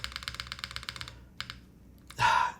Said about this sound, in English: The spacebar, unfortunately, sounds still a little bit thin. I don't mind the alphas.